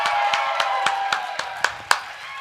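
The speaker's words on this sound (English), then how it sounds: "Give her a big hand, folks." Audience at the Microsoft Excel World Championship 2023 finals applauding, a fairly close clapping pattern with individual sharp claps standing out over a steady wash, tapering off by the end.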